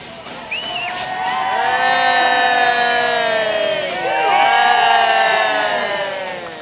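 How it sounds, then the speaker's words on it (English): A large crowd at a War of the Roses jousting show at Warwick Castle roars and cheers loudly, in two swelling waves with no talk over it. "let me hear a cheer for the house of York!"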